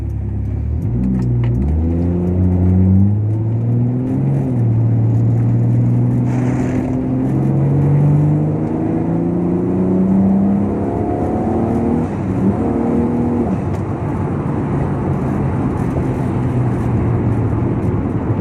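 A Toyota Supra turbo engine revs up repeatedly through the gears while driving, each rise in pitch followed by a shift, droning loud and close with steady road noise underneath.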